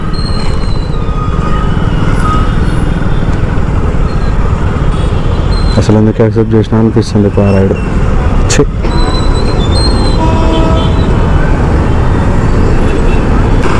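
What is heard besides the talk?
heavy road traffic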